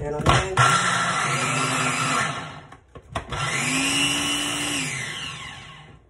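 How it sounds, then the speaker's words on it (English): A kitchen blender whirs loudly while blending vegan meal ingredients, running in two bursts with a short pause between them as the motor pitch climbs and settles. "you want to blend them together in a blender"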